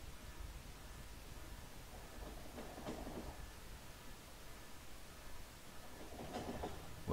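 A train in the Factorio video game rolls along its rails, a faint, steady low rumble with soft rhythmic clacks swelling slightly now and then.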